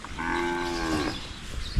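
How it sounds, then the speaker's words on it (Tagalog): A cow on a farm where cattle and carabao are kept together lets out one loud, sustained moo lasting about a second, close by, followed by quieter rustling and a brief knock. "Subukan natin na ibalik doon yung ating baka na isa."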